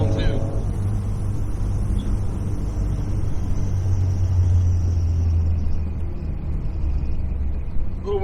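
A 1960 Austin-Healey Sprite Mk1 "Bugeye" engine runs steadily with a low, continuous droning rumble at an even pitch throughout, fairly loud and close, with some wind noise on top.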